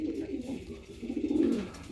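Racing pigeons coo in a loft, low throaty burbling calls rolling and overlapping at close range, swelling louder midway, with no one speaking.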